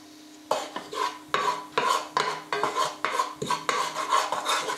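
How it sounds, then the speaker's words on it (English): Cumin seeds cooking in coconut oil in a non-stick pan, heard as a run of rhythmic scraping stirs and crackly sizzle bursts, close and fairly loud, with no voices. "What we're going to add in now is just the cumin seeds, just to cook them in the oil and so that they release their flavors."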